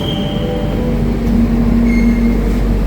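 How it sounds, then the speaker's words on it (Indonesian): Jakarta airport rail link train running toward Soekarno-Hatta, a loud steady rumble of wheels on track with low droning hum and faint high whine, heard close from inside the carriage. "Ini teman-teman kereta bandaranya."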